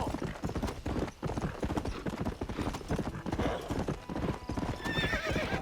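Horse hooves clip-clop in a steady rhythm with whinnying in Red Dead Redemption, close and continuous, with faint game ambience and no clear talking.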